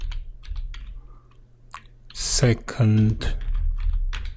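Computer keyboard typing comes through as bursts of close key clicks while someone talks over them, with a quiet pause before a denser run of keystrokes.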